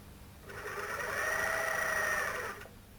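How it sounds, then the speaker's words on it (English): A My Lock 503 overlocker sews over stretched elastic, one continuous mid-pitched whirring run of about two seconds that rises and cuts off, heard close and alone. "sew over the elastic, stretching it at the same time"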